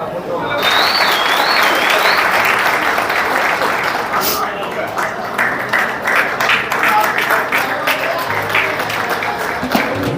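A crowd claps loudly at a pigeon-flying prize distribution in Patna, Bihar, a thick, sustained roar of applause lasting several seconds, with a short whistle-like tone near the start.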